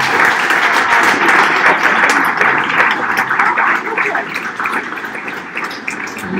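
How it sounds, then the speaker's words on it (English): Loud, rapturous applause from a business pitch audience greets the winner of a £250 prize, thick steady clapping that eases slightly toward the end. "to rapturous applause from everybody"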